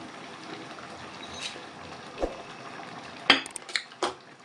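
Ogbono soup being stirred in a pot: a quiet bubbling background with a few distinct metallic clinks and scrapes of a spoon against the pot toward the end.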